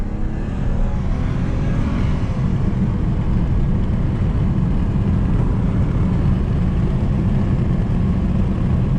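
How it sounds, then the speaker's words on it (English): A 2008 BMW 328xi E90 with xDrive accelerates hard in second gear, a loud, steady engine drone with road and wind roar heard from inside the car, no speech. "I'm gonna do a little quick pull for you guys"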